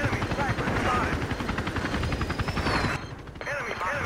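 Attack helicopter chasing the player in an online military shooter, a steady loud rotor and engine drone with bursts of gunfire on top, dipping briefly near the end before returning, while a player talks over it.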